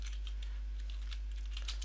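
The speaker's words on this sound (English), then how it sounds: "Now I can start typing the history" Typing on a computer keyboard, faint scattered key clicks over a low steady hum, close and quiet with no talk.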